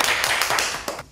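Applause in a school classroom greeting a newly transferred second-grade student, a short burst of dense clapping from a small group of children that fades out after about a second.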